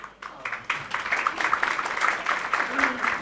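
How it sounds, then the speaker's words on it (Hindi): Applause from a crowd at a Bhagavad Gita discourse, a dense continuous patter of clapping with a voice speaking Hindi over it. "तेरे लिए तालियां बजा रहे हैं"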